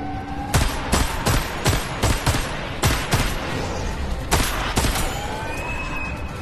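Repeated gunfire in the Metro Awakening video game, with sharp bursts of shots in irregular clusters over a continuous bed of game sound and music, fairly loud and close.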